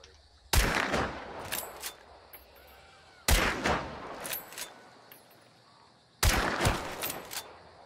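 Three heavy gunshots in the online shooter Hunt: Showdown, spaced about three seconds apart, each a sharp loud crack that trails into a long rumbling echo, with faint clatter between them and no talk.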